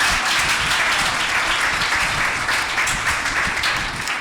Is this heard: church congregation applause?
yes